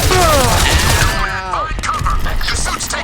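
Gunfire strikes the player in Crysis Remastered: a loud, dense burst of shots and impacts fills the whole stretch, with tonal suit and game effects sweeping over it and no talk.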